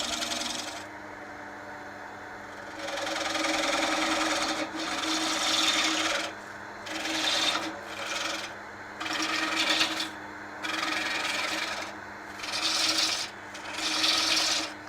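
A pull cut on a wood lathe gives repeated rasping, scraping passes of the tool against spinning wood over a low motor hum, each stroke lasting a second or two with short pauses between.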